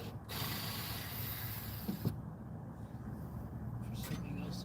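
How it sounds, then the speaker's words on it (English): Ratcheting mechanical clicks come from screws being backed out of metal brackets on a 2x4, moderately quiet and close, running in short bursts with a few knocks between them. "I'm going to take these brackets off this piece of this 2x4 here"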